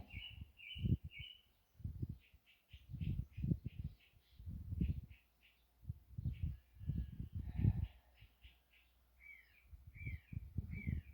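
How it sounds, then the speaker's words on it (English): Birds chirp and trill in short repeated phrases outdoors under a bridge, with low thumping noises underneath; no one speaks. "I can hear all these lovely birds"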